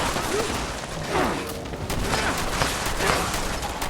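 Shotgun blasts ring out in Fallout 76 amid a dense, noisy game mix, several loud bursts overlapping with near-constant explosive clatter, with faint voices underneath.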